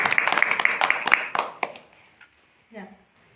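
Brisk collective clapping from a class during a map lesson on India's states fills the first half, then stops abruptly, leaving near silence and a short voice afterward.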